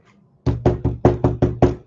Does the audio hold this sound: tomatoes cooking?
no